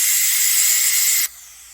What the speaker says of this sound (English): I'm going to pressure release. I'm going to vent it.